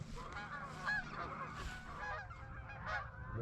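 Geese and ducks honk and call repeatedly during a waterfowl hunt in Alberta, a dense, steady chorus of overlapping honks at moderate distance with no talk.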